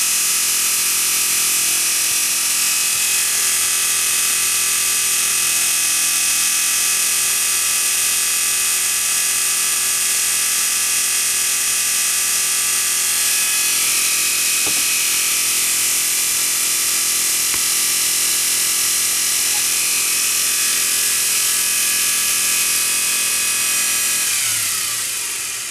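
A rewound Bosch 750W motor spins at about 2500 RPM, giving a loud, continuous high whine with a steady hum beneath, running alone throughout.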